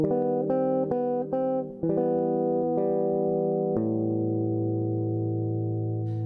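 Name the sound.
guitar melody phrase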